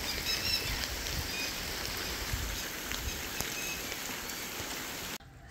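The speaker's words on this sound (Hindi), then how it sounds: "बारिश का सिलसिला जारी है बारिश हुई है" Steady rain patters and hisses on surfaces in a village in Azad Kashmir, with faint bird chirps in the background, cutting off abruptly near the end.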